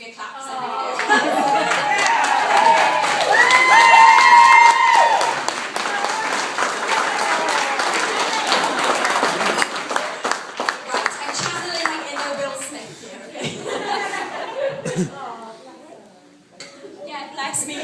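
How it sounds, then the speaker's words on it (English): Wedding guests at a reception clap loudly and steadily, the sound gradually thinning out, while music with a melodic line plays and voices chatter underneath. "please get on your feet and give me a clap."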